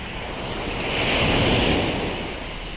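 Strong surf breaks on a seashore where unusual stones are being gathered, a loud continuous roar of crashing water that swells toward the middle, with wind buffeting the microphone.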